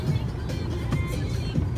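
Car driving across the desert, a loud steady engine and road rumble heard from inside the moving vehicle, with faint voices under it.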